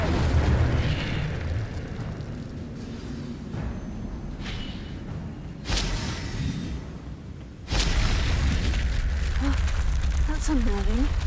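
Hogwarts Legacy's Incendio fire spell bursts out in loud whooshing blasts and booms, several in sequence, over continuous game ambience and spoken voices.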